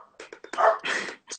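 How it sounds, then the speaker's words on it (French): A dog heard indoors gives a run of short yips and barks, then a longer whining, rough bark, close and fairly loud against otherwise quiet surroundings. "On entend le chien surtout."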